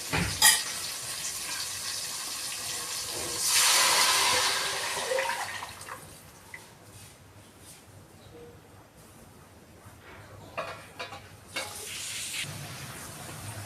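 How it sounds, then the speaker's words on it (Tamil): Tamarind fish curry gravy, South Indian style, is poured into a pan of sautéed tomatoes, raising a loud hissing, splashing rush for a couple of seconds before it settles into a low, steady simmering sizzle with a few light clinks. "இப்போ நம்ம கரைச்சி வச்சுருக்க அந்த குழம்பு இதில் ஊற்றிக்கலாம்."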